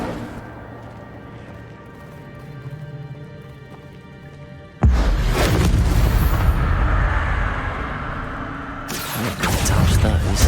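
Incendio fire spell cast in Hogwarts Legacy, a sudden loud burst of roaring, crackling flame that erupts midway and sustains, then flares again near the end, over quieter game music and a speaking voice.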